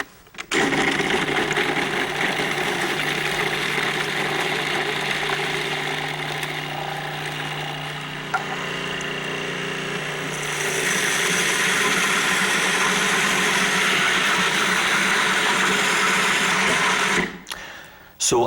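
A Cuisinart food processor purees a seeded, cut tomato until smooth, with a steady, loud motor whir that runs continuously and shifts in pitch partway through, then cuts off near the end.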